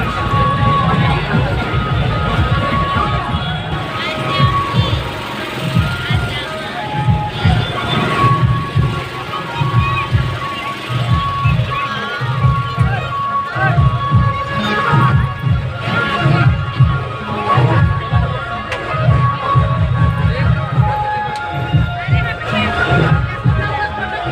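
Loud outdoor crowd hubbub at a Hareli festival rally in Bhilai, Chhattisgarh, with a DJ sound system, a steady dense babble of many voices and thumping low-end music, wind and rumbling traffic throughout.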